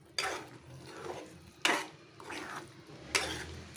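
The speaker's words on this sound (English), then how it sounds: "the oil is coming up on top, so that means it's, the masala is frying really well" Curry masala frying in oil in a pan for South Indian kara kuzhambu, with a few loud stirring and scraping strokes against the pan over a low, steady sizzle, close up.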